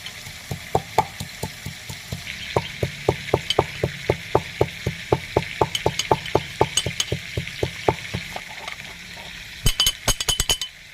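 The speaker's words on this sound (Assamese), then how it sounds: "এতিয়া ইয়াতে মছলাখিনি খুন্দি ল'ম।" Spices are pounded in a mortar in steady, rapid rhythmic strikes, dozens of close, sharp thuds in a long run, ending in a quicker flurry of lighter clinking hits.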